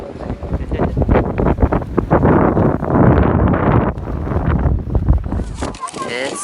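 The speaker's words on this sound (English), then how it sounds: "It's not a storm, it's just windy." Strong gusts of high wind buffet the microphone at a campsite in Gaviota State Park, loud roaring and rumbling throughout, easing near the end.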